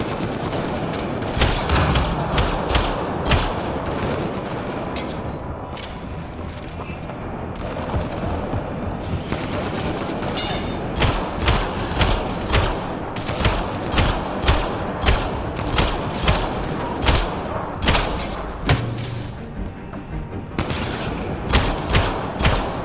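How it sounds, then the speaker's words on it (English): Rapid, sustained gunfire from a Mass Effect Andromeda firefight, with dense overlapping bursts and automatic volleys crackling loudly throughout, punctuated by heavier thumps and booms. "Look out! Scott, shoot them!"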